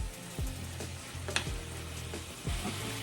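Onions sizzling and frying in an iron skillet, a steady close crackling hiss with occasional stirring scrapes and soft pops, no talking.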